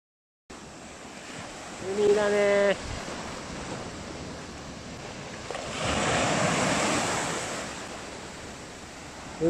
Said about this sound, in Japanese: 海ですよ。